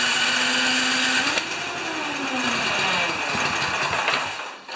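A Yardworks snowblower engine runs steadily up close, a continuous mechanical drone with a shifting pitch that rises and then sags before easing off near the end.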